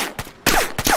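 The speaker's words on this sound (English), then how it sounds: "Let's see what happens if you shoot him in the head." Gunfire from a Model 1894 lever-action rifle in a video game, with two sharp, loud shots in quick succession preceded by a fainter pop, each with a brief echoing tail.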